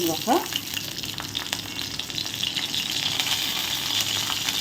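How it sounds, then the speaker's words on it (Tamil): Mustard seeds and urad dal spluttering in hot oil for a tomato and brinjal chutney: a close, steady crackling sizzle with tiny popping bursts throughout, after a brief scrape at the start, no speech. "எண்ணெய் சூடானதும் கடுகு உளுத்தம்பருப்பு போட்டுறாங்க"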